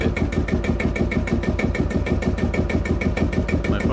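A vintage Field Marshall tractor diesel engine, rebuilt after an insurance claim, chugs in a steady, fast, loud rhythmic thump as it runs at idle close by.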